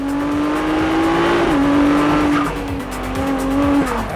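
A Ferrari 296 GTB's 830-horsepower turbo hybrid engine holds a steady, loud drone with slight pitch dips and rises, alongside faint tire noise, and no voices.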